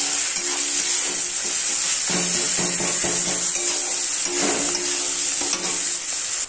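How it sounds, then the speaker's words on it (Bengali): Tomatoes sizzle in a frying pan with salt and turmeric for a potato, pointed gourd and prawn dish: a constant loud frying hiss with close scraping and stirring throughout. "এবারে টমেটোগুলো দিয়ে দিই, নুন হলুদ দিয়ে দিয়েছি কিন্তু দেখানো হয়নি"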